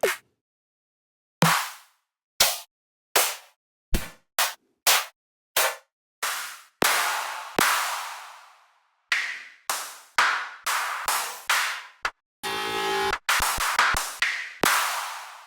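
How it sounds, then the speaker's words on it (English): Single clap drum samples auditioned one after another in music production software, each a sharp dry hit with a short or reverberant tail, separated by brief gaps, with a rapid burst of stuttered hits partway through. "Let's go over to drums again. Claps."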